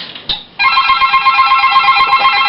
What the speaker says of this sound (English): That's just from hanging up the phone too fast.